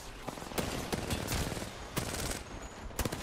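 Gunfire in the video game Apex Legends during a competitive match: rapid bursts and single sharp shots over a steady hiss, fairly faint, with no talk.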